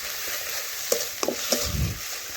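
Turmeric and red chili powder are stirred into frying masala for a chicken curry, giving a soft, low sizzle and a few quick scraping strokes close by, without speech.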